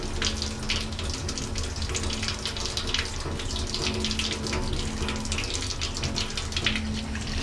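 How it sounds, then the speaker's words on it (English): Tap water runs steadily over a zinc plate being rinsed at a sink, a continuous close splashing hiss with no pauses and no talk. "Rinse this off again."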